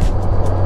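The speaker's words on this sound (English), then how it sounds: "Car coming." A car passing on a rural Arkansas road near Harrison, a steady broadband road rumble with low engine hum, fairly close and continuous, with no talk over it.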